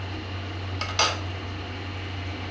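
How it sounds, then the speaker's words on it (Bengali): A metal lid set down over a pot of simmering fish makes a soft scrape and then a single clink, quiet above a steady low kitchen hum. "আর 5 মিনিটের জন্য আমি আবার ঢাকা দিয়ে রাখবো"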